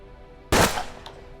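A single sharp gunshot in the Old West strategy game Hard West, a loud close crack with a short tail and a faint metallic click just after, over a quiet musical background.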